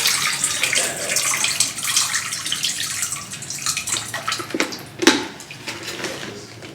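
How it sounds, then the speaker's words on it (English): Excess water is poured out into a bowl while repotting a fiddle-leaf fig cutting, a continuous splashing pour with a clink of the bowl near the end, close and fairly loud. "So I brought this bowl to dump out the extra water."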